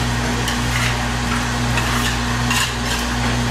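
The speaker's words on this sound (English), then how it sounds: "So we'll just scrape the excess off." A scraper drags excess chocolate off the molds in a chocolatier's shop, a steady close scraping over a constant electrical hum.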